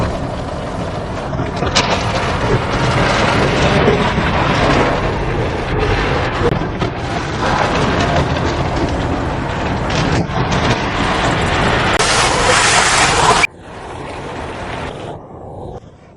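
Rotating brushes and spraying water scrub a car inside an automatic car wash, a loud, dense, steady roar that cuts off abruptly near the end, leaving a quieter mechanical hum.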